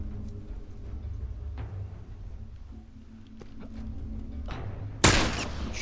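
A single loud, sharp gunshot near the end of a quiet stretch in The Last of Us Remastered, preceded by faint background game ambience and soft footsteps.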